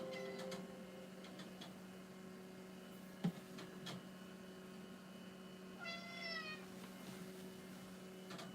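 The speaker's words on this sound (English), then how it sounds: "Don't mind the whiny cat." A cat whines with a short plaintive meow midway through, over a low electrical hum from old computer equipment, with scattered faint ticks and clicks around it in a quiet room.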